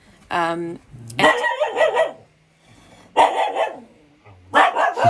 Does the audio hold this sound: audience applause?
no